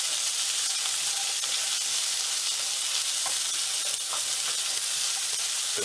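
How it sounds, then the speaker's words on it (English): Shallots sauté in olive oil in a pan, making a loud, continuous, close-up sizzle and crackle with no voices. "We're going to go ahead and throw in our shallots. And we're going to saute these"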